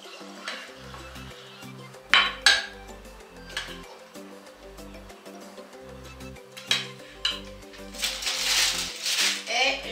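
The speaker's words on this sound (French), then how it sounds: "je vais servir un peu de pommes de terre" Golden roasted potatoes from an oven-roast lamb dish are served onto a plate with utensils. Scattered clinks and scrapes of metal on crockery come close by, with a louder rattling burst near the end, and a voice talks over part of it.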